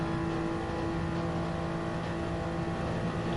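Toyota Supra and Hyundai race cars in a racing video game drone along at high speed, a steady engine whine with no break and no one talking.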